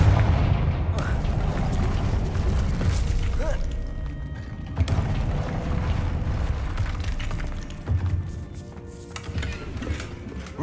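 A Confringo blast spell explodes in the video game Hogwarts Legacy, a dense, booming burst amid continuous loud combat noise, with a sharp impact near the middle and rumbling, crackling effects throughout.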